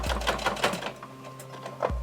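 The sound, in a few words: sewing machine stitching a messenger bag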